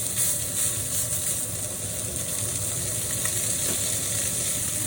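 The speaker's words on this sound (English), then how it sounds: "We love sizzle of pork chops." Pork chops sizzle steadily in a hot pan with fat rendering, a close, constant crackling hiss that holds evenly throughout without any talking.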